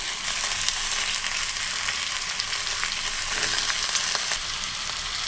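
Tomatoes, green chillies and garlic frying for tomato chutney, giving a loud, close, continuous hissing sizzle that holds steady throughout, with a few faint stirring scrapes and no talk.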